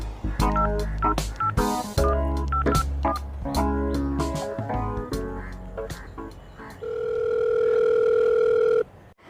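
A telephone call tone sounds in a comedy spoof: a steady two-pitch tone holds for about two seconds near the end, after a stretch of voices and music.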